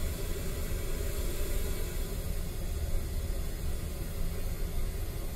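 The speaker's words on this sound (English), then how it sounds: "We're going to play some pink noise, and then I'm going to move this thing around." Pink noise plays through a SYNG Cell Alpha speaker as a steady, dense, broadband hiss, continuous and unchanging.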